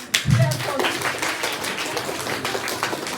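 Students at a school maths quiz competition clap for their teacher, a short burst of scattered applause running under a speaking voice.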